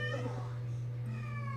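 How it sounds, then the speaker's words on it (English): A pet cat meows repeatedly at a closed door, close and fairly loud, over a steady low indoor hum. "My cat's meowing at my parents' door"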